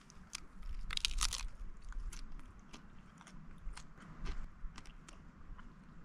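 Several crunchy bites into stale taco shells during a meal on a Sierra Nevada trail trip, sharp close crackles bunched early then scattered chewing crunches, with quiet outdoor background and no talk.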